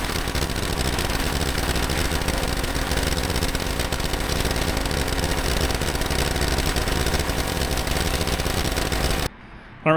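A Beretta Z26 with its Quad 4 engine runs at a steady idle, a constant close drone with slight vibration that cuts off just before the end.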